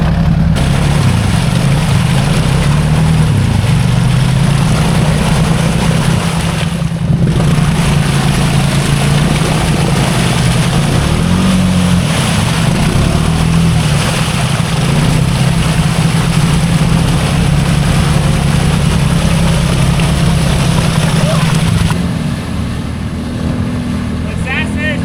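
An off-road vehicle engine roars and revs hard almost without pause, loud and close, as it pushes through a deep mud hole, easing off near the end.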